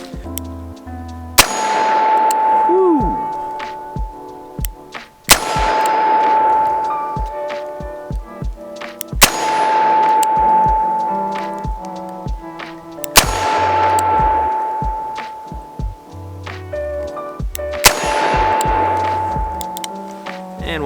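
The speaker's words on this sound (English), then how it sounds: "I'm going to shoot one more cylinder, this time with some 158 grain .357 mag" A Smith & Wesson 19 Carry Comp K-frame revolver firing 158 grain .357 Magnum rounds at a range: five loud, sharp shots spaced about four seconds apart, each followed by a ringing metallic clang that fades slowly.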